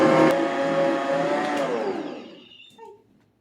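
An electric mixer whirs loudly through chocolate cake batter for a from-scratch German chocolate layer cake, a steady motor whine that winds down and stops, followed by a couple of faint clinks.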